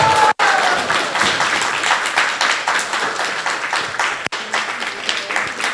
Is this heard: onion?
no